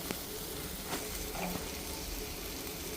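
Okra fry being gently turned with a spoon in a hot pan, a quiet, continuous low sizzle with faint scraping stirs, close and free of talk.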